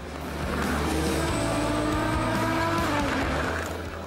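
An LMP1 prototype race car rejoins the Bahrain track, its engine swelling into a loud, rising roar that peaks and then fades as the car pulls away, with a brief tire screech.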